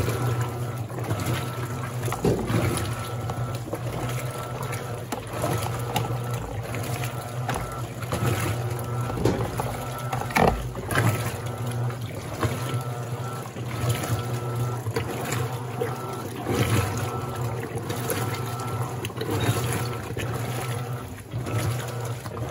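An Electrolux Silent Control washing machine with an impeller agitates its load of water in steady sloshing, churning waves, alongside a constant motor hum, fairly loud and close with no voices.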